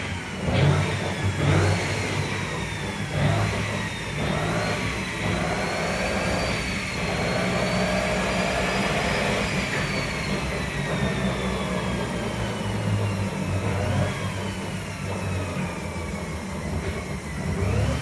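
All-wheel-drive Honda CRX engine revving steadily with a rising and falling whine, loud and close throughout, with no talking.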